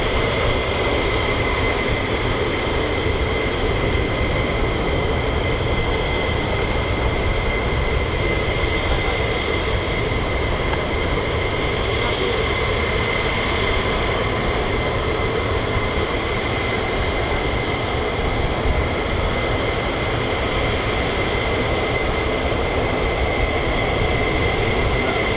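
US Air Force F-22 Raptor jets taking off at RAF Lakenheath, a loud, unbroken engine roar that fills the whole stretch without letting up.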